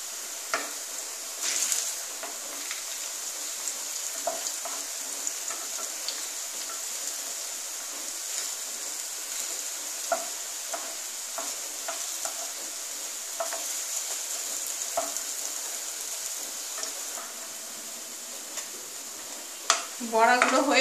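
Aloo pakora, crispy potato fritters, frying in a pan over a very low gas flame, with a steady soft sizzle throughout, scattered light clicks, and a clatter of utensils at the very end.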